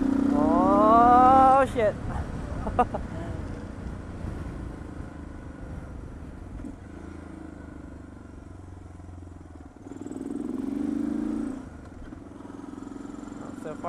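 A Suzuki DR650SE motorcycle with an FCR-MX carburetor revs hard at wide open throttle, its engine note rising and sweeping upward, then settles into a steady drone with a second rev later; a voice briefly exclaims over it.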